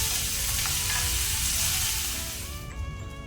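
Onions and chopped curry leaves frying in a pan until golden brown give a dense, continuous close sizzle with stirring, easing off slightly toward the end, with no talking.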